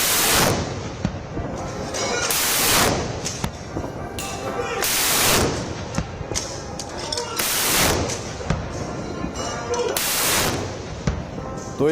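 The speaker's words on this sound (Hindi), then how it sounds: "तो 21 तोपों की सलामी" A 21-gun cannon salute on Independence Day in India: heavy booming blasts recur about every two and a half seconds, each followed by a long rumbling roll, over continuous crowd or ambient noise.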